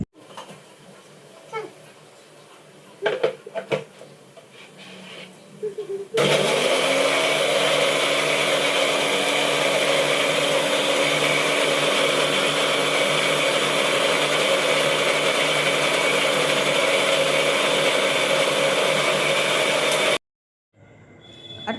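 A mixer grinder starts after a few seconds of faint kitchen clatter and runs loud and steady for about fourteen seconds before it cuts off abruptly, while prawns fry for a prawn and cauliflower curry.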